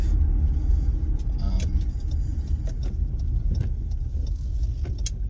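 A car being driven on the road, with a steady low engine and road rumble throughout and a few light jangling or rattling clicks inside the cabin.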